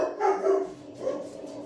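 Dogs bark indoors in a short burst of muffled, mid-distance woofs, two or three overlapping calls with no talk over them.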